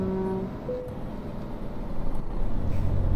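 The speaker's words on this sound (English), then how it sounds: "I can just hear you restarting your engine" Truck engine in Euro Truck Simulator 2 multiplayer turning over and restarting, a steady low rumble that swells louder toward the end amid road traffic.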